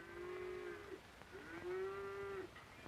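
Cows low on an alpine summer pasture of short grass, two long, drawn-out moos one after the other, clear and fairly close over quiet outdoor air.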